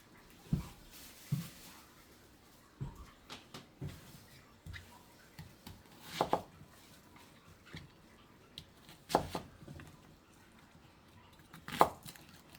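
Sharp knife chops roughly cut an onion on a board in an irregular series, some isolated and some in quick pairs, with faint background noise between strikes.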